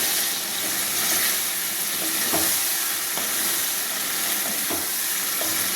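Ridge gourd and potato for a Bengali fish curry sauté in oil in a pan, giving a continuous close sizzle and frying hiss with occasional stirring scrapes.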